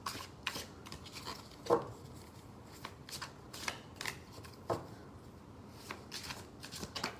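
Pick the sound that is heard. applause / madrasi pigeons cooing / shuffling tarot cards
shuffling tarot cards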